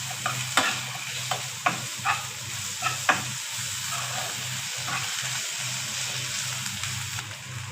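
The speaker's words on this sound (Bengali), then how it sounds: "আমি এর সাথে অল্প কিছু আদা বাটা সামান্য পরিমাণে রসুন বাটা অ্যাড করে দেবো" Onions stir-fried with ginger and garlic paste sizzle steadily in a hot pan while a spoon scrapes in quick strokes early on, then the frying settles into an even hiss, close and without talk.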